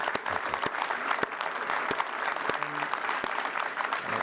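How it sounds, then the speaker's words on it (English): A crowd applauds steadily at a live event, with dense, even clapping throughout and sharper individual claps standing out, while a voice talks faintly underneath. "I want to give a big hand of applause to Josh."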